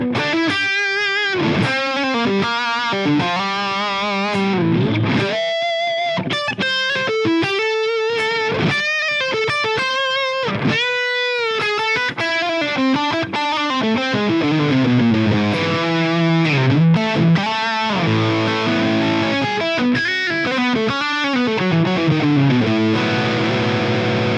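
Electric guitar played through a modelled Orange Rockerverb amp, high gain with the gain at 8. The guitar is loud and heavily distorted, mixing chugged riffs with ringing sustained chords and bends for about twenty-four seconds. It plays alone, with no talking.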